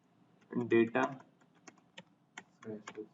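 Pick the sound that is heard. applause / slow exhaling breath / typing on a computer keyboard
typing on a computer keyboard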